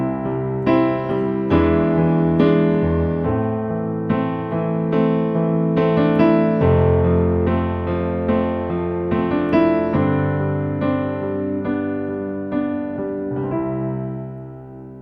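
Guitar plays a chord progression including an E dominant seventh, strummed and arpeggiated chords changing every second or two, moderately loud and ringing, with no voices.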